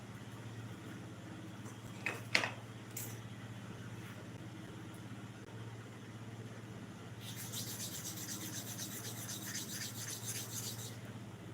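Clipper blade rubbed by hand against sandpaper, a few short scraping strokes early on followed by a longer, steadier rasping passage, faint and close in a quiet room with low background hum.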